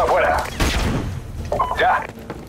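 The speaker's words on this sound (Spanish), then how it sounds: "Granada cegadora afuera." A flashbang grenade detonating in Call of Duty Modern Warfare, a sharp burst under shouted voices, with clattering noise and ringing tones around it.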